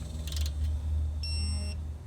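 A digital torque wrench on a Honda Civic Si CV axle job gives a short, clear electronic beep once the set torque is reached, heard over a low steady hum.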